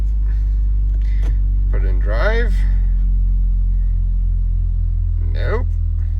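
A Jeep Wrangler JL engine runs steadily as it is put into drive, giving a constant low rumble throughout, with someone speaking briefly over it.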